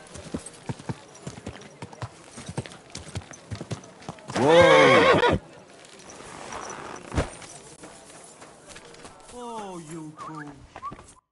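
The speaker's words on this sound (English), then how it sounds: "Easy. Good horse." A horse in Kingdom Come: Deliverance 2 whinnies loudly in a single burst, surrounded by scattered hoof clops and shuffling, with a few brief chirpy calls near the end.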